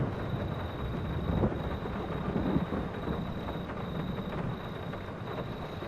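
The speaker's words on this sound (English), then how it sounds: "Making hay while it pisses down rain" Steady heavy rainfall with low rumbling thunder in Farming Simulator 22, a dense broadband wash that swells slightly around the middle and carries on without pause, with no talking over it.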